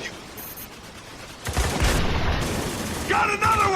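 Heavy combat gunfire in the military shooter Spec Ops: The Line: a quiet lead-in, then loud, sustained bursts of shots and booms that continue to the end.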